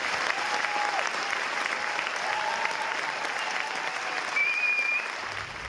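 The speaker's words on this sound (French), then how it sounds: "Donc moi je vous propose qu'on l'applaudisse pour qu'il arrive très très vite." A theatre audience at Beausobre in Morges, Switzerland, applauding explorer Mike Horn's arrival on stage: dense, sustained clapping from a large crowd, with a few whistles cutting through.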